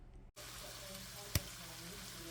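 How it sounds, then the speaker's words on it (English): Sausage frying in a pan, a steady soft sizzle after a brief gap, with one sharp click partway through, faint and close. "what you'll do is you'll fry up the sausage"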